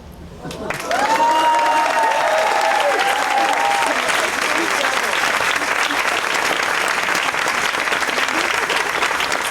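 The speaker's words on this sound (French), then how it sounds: "Merci de garder vos applaudissements pour Adrien." Audience applause fills a performance hall at an open-mic comedy night, rising quickly to a loud, sustained clatter of many hands. Cheering voices ride over it early on.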